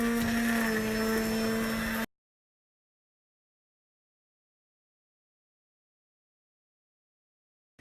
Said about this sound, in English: I'm going to use my immersion blender to blend this